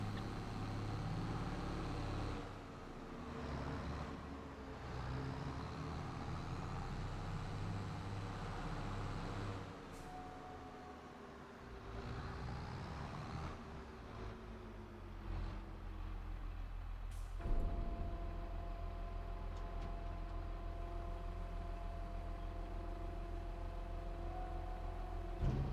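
Farming Simulator 22 farm vehicles drag racing on the Erlengrat map, a steady loud engine drone with revving swells, a sharp air-brake hiss and a change in engine pitch partway through, with no talk.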